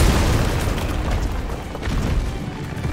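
A grenade blast in Resident Evil 3 as a dense, loud rumbling boom, sustained low-heavy roar with debris-like crackle lasting the whole moment, no talk over it.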